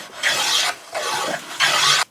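Light shaping passes over a wooden cupboard door, three close, even rasping strokes of a hand tool across the wood, each lasting about half a second.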